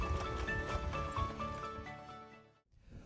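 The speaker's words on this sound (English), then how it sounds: "I hear the breath of my horse, the sound of her feet." A racing horse moves at speed, its hooves beating a quick rhythm under audible breathing, close and moderately loud before fading and dropping away near the end.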